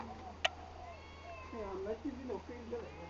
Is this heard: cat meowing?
yes